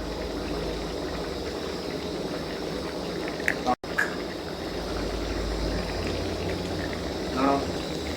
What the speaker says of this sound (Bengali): ঝোল ভালোভাবে ফুটে গেছে আর সবজিগুলো সেদ্ধ হয়ে গেছে